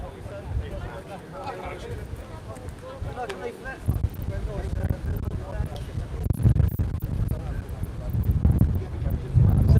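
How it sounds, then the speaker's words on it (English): Wind blows outdoors, rumbling and buffeting against the microphone in low gusts that grow stronger toward the end. People talk over it. "I think it's the wind."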